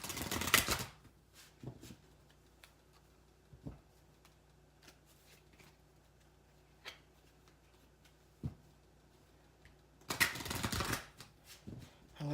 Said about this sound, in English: I'm going to draw an oracle card from the Wisdom of the House of Night oracle deck.